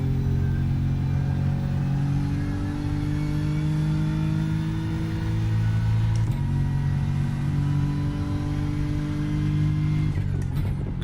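A BMW M4 GT3 race car in iRacing at Spa drones at high revs without a break, its loud engine tone sliding steadily upward, with brief upshift blips around six and ten seconds.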